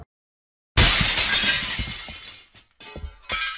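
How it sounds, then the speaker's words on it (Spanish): A glass window shatters after a moment of silence, a loud, bright crash followed by tinkling shards scattering and falling, then a couple of further smaller crashes. "cuando rompen el vidrio de la ventana"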